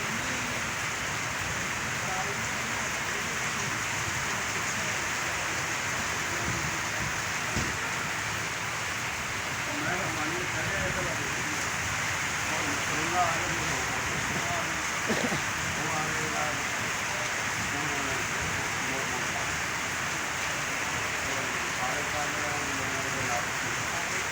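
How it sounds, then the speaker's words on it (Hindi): Steady, dense hiss of heavy rain pouring down outdoors onto a road, with faint voices and occasional knocks underneath throughout. "बारिश तेज़ हो रही है"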